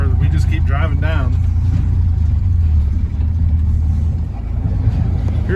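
Steady low rumble of a car driving downhill on a road over a landfill hill, engine and road noise constant and close, with a person talking over it.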